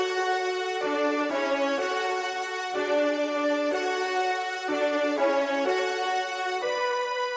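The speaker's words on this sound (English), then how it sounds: "I've added this delay, which you can see is very high in the mix and has flutter and wow." Piano chords through a prominent wobbling delay with flutter and wow repeat in a slow, steady pattern, the notes smeared and slightly detuned, moderately loud with no voices.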